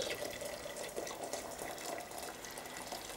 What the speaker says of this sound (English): And then I'm going to fill it up with some boiled water here.